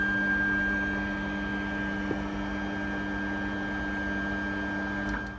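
A Creality Ender 3 3D printer homing, its motors giving a steady whirring drone with a constant tonal hum as the axes move up and down, close and continuous with a faint click near the end.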